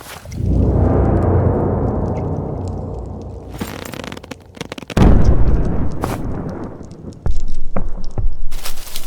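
Gunfire and explosions from the video game Strike Force Heroes come as loud, booming bursts with rumbling tails in several clustered volleys, separated by brief quieter gaps.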